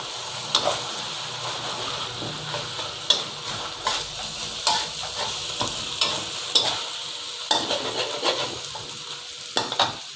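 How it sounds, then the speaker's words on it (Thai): Noodles and egg stir-fry in a hot pan for dry suki, with a steady loud sizzle broken by sharp spatula clacks and scrapes at an irregular pace. "ให้เราเตรียมใส่เส้นเลยครับนี่ครับใส่เส้นลงไป"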